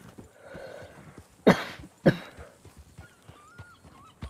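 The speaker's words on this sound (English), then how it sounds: "I gotta get this cough checked out soon." A character in a Western game coughs near the town of Blackwater: two sharp, loud coughs about half a second apart, over quiet ambience with faint hoofbeats and other background sounds.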